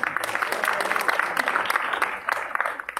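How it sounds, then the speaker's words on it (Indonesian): An audience at an Indonesian comedy showcase breaks into dense, continuous applause, many hands clapping at once at a fairly steady level for about three seconds. "Sebelumnya tepuk tangan dulu dong buat kalian semua yang ada di sini."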